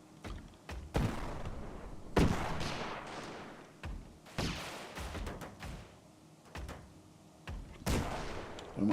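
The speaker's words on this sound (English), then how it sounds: "So the cannons are still firing at the main area." Cannons fire in a steampunk airship battle in the video game Airships: Conquer the Skies, with repeated sharp booms at irregular intervals over a continuous rumbling battle din.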